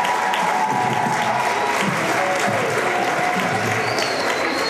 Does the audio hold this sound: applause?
yes